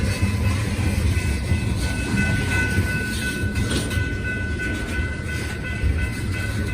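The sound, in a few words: train passing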